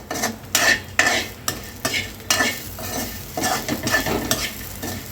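Meal maker soya chunks fry in hot oil, a steady broadband sizzle broken by repeated scraping and clinking strokes of a spatula stirring against the pan, close and fairly loud, with no voices.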